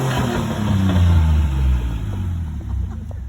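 A 1996 Chevy S10 engine revs through a Cherry Bomb glasspack muffler, a loud, deep rumbling exhaust that swells, holds and eases back over a few seconds, close by and alone.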